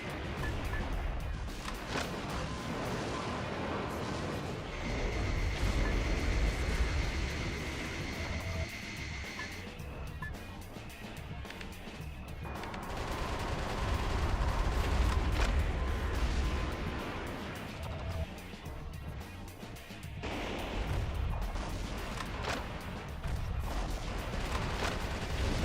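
High explosive bombs go off in the Metal Wolf Chaos video game as a continuous barrage of heavy, rumbling blasts and crackling gunfire-like bursts, loud and dense throughout with no pauses.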